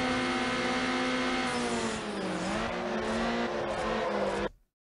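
A Toyota Supra race car engine in the video game Need for Speed Underground holds a loud, sustained high rev, dips and climbs again, then cuts off abruptly near the end, with no talk.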